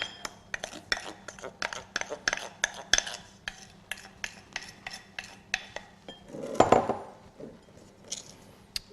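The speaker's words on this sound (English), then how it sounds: "I'm just going to cream that with some sifted icing sugar" Softened butter creamed with sifted icing sugar in a bowl, heard as rapid rhythmic tapping and scraping of a utensil against the bowl, with a louder clunk near the end.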